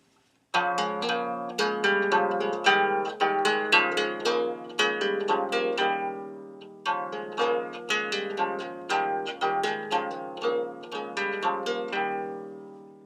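Plucked Anglo-Saxon lyre with Nile gut strings left ringing unmuted, each new note blurring into the last for a thick, muddy sustain; no voices.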